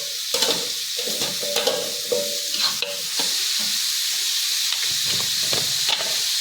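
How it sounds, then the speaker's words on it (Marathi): Chopped onion and tomato with turmeric and salt sizzle steadily in a pan for egg bhurji, with repeated scraping stirs of a spatula cutting through the frying hiss, close and moderately loud, no talking. "कांदा गुलाबी होईपर्यंत परतून घ्यायचा आहे"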